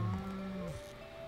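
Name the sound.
cow mooing in video game Stardew Valley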